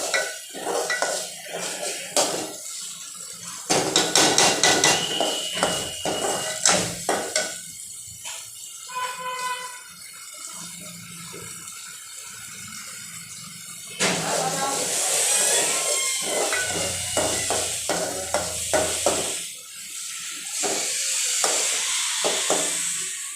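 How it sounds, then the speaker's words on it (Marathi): Masala sautéing in oil until the oil separates, with close stirring scrapes and clinks of a spoon against the pan over a soft sizzle, sometimes louder and busier, while a voice talks in places. "मसाला छान परतून घेऊया. तेल सुटोपर्यंत मसाला परतवायचा आहे."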